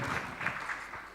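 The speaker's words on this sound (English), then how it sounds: "Can we clap hands for Buitumelo?" Audience applause for a soloist at a university research chair launch event, a steady wash of clapping lasting just over a second at moderate level.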